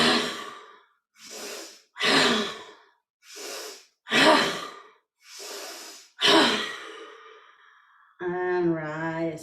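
Slow, deep yoga breaths during a hatha yoga hold, about five or six long airy inhales and exhales spaced evenly, close and clear, with a brief hum-like sound at the end.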